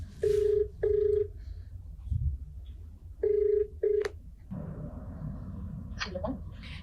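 A phone line rings on an outgoing call: two pairs of short electronic ring bursts, loud and close, then a voice comes on the line under some background noise.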